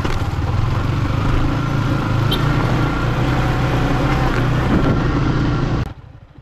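A motorcycle engine runs steadily and loud, close by, on a muddy, rocky rural road between Mangatarem and Santa Cruz, Zambales, then cuts off abruptly near the end.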